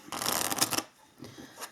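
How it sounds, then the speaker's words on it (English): A tarot card deck is shuffled close up, with a dense riffling burst lasting most of a second. A quieter second patter of cards follows. "So let's shuffle."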